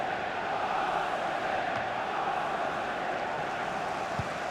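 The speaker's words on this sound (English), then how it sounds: "Well, just listen to the crowd." A football stadium crowd in the FIFA 23 video game sends up a steady, dense roar that holds at an even level throughout, with no distinct chants or talk standing out.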